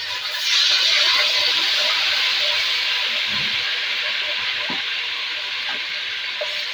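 Ginger garlic paste with whole green chilies frying in hot oil after mustard seeds, a steady close sizzle and hiss that holds evenly throughout, with a few faint clinks.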